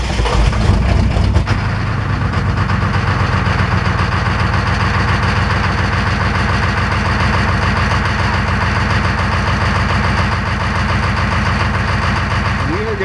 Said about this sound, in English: that's the only exhaust note we got going off of this thing